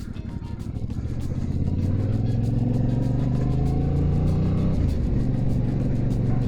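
Yamaha motorcycle engine starting and revving, a close loud low rumble that builds as the revs rise and hold, then dips near the end, with no talk over it.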